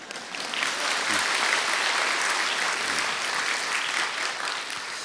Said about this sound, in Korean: 박수를 치려면 다 한번 쳐봅시다.